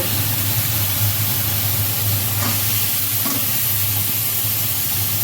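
Jackfruit seeds dropped into a pan of frying spices, a steady loud sizzle filling the whole stretch with continuous hiss and light stirring underneath.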